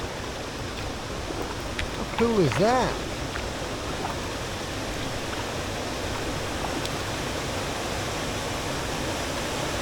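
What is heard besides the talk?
small waterfall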